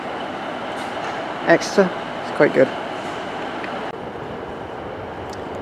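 A three-car train at Exeter St David's station on the Great Western Main Line gives a steady low rumble with a hum, while a voice speaks over it and a few short, sharper bursts stand out.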